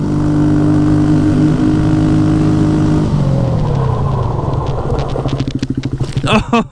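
Off-road Grom motorcycle on knobby tires brakes hard from 50 to 0, its steady engine drone dropping in pitch and fading over a few seconds into irregular low thumps and rattles as it slows to a stop.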